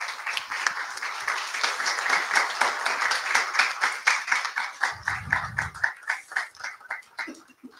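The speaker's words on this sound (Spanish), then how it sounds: "les damos un aplauso de reconocimiento a lo que ustedes han hecho en el Parlamento Europeo por la" Audience applause for Members of the European Parliament at a Brussels event marking the seventh anniversary of the Colombian peace agreement signing; sustained clapping from a crowd that gradually thins into more distinct, rhythmic claps.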